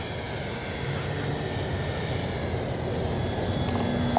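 Dynam DHC Beaver RC plane taking off from grass, a loud steady electric motor whine with a thin tonal hum, rising slightly in pitch and volume throughout.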